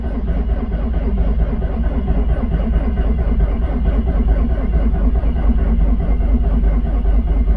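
A Subaru STI with an EJ25 engine and Cobb flex fuel setup runs with a loud, steady, low rumbling drone close by, pulsing evenly throughout with no talk over it.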